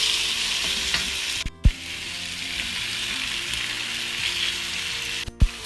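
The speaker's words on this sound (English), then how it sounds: "Then this time we're going to add the vegetables that we have fried." Fried vegetables stirred into a hot pan of fish and rice, giving a steady close sizzle with scraping stir sounds and two sharp clanks of a utensil against the pan.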